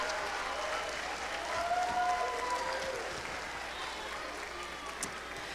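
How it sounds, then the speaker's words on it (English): Audience applause after a junior high spring choir concert fills the room as a steady, sustained wash of clapping from start to finish, with a slight swell midway. "how about one more round of applause for all of our singers tonight?"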